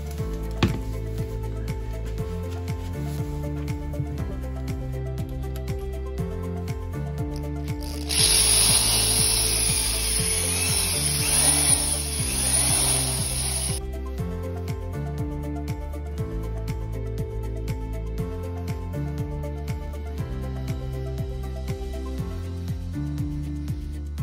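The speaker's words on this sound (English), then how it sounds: "We'll start by putting in the eye bolt." Power tool working as an eye bolt is driven into a tire rig, a harsh grinding burst lasting several seconds in the middle, set against steady background music.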